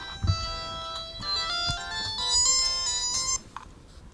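A telephone in a stage play rings with a bright, repeating electronic ringtone melody, loud and close, sounding alone for about three seconds before cutting off.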